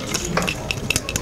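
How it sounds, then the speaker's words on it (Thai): Spoons toss and fold vegetarian mushroom larb with sliced celery in a bowl, close and lively, with quick scraping stirs and bright metallic clinks in an uneven rhythm. "ทำการคลุก"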